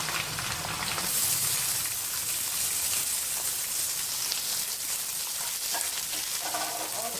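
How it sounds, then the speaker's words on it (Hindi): One kilo of chicken frying with browned onions in a pan: a loud, continuous sizzle with crackling spatter throughout, steady and close, with no voices. "प्याज के साथ मैं इसको फ्राई करूँगी।"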